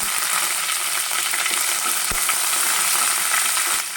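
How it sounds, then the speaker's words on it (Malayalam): Curry leaves hitting hot oil with mustard seeds and urad dal, a loud, steady hissing sizzle that holds evenly throughout, with a single soft knock partway and a slight drop near the end. "2 തണ്ട് കറിവേപ്പില കൂടി ഇട്ട് കൊടുത്ത് ഒന്ന് ഇളക്കി കൊടുക്കാം."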